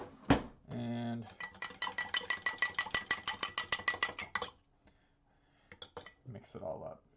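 A spoon clinks rapidly and rhythmically against a glass while a michelada of beer and mix is stirred, a steady run of bright metallic ticks lasting several seconds, then a pause and a few softer clinks with a brief voice.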